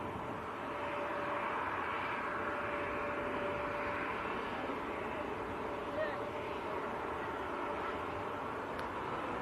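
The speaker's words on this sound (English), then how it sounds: "the Lufthansa A321Neo is taxiing out as well" A Lufthansa A321neo taxiing at Manchester Airport gives a steady, broad jet engine hum that holds fairly level throughout, with a faint whine over it and no speech in the clip.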